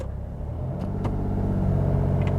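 A manual car pulls away from a standstill on the clutch, its engine rumbling low and steady and building slightly as it moves off, with no talk.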